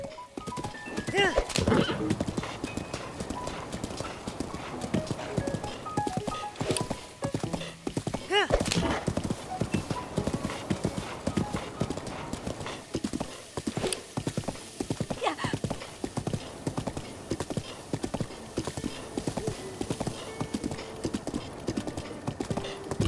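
Horse hooves clip-clop steadily along a road in The Legend of Zelda: Breath of the Wild, with occasional whinnies and neighs, loud and close, while someone talks over much of it.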